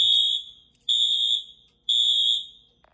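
A Wheelock MT fire alarm horn sounds in three loud, shrill electronic blasts, each roughly half a second long and spaced about a second apart, with a slight echo trailing after each one and no voices.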